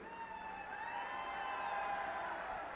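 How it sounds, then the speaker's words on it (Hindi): Applause rolls through an audience at a political rally, a dense, steady clapping from a crowd heard at moderate distance, with a tonal drone layered above it and no speech over it. "अभी आपने जल्दी ताली बजा दी"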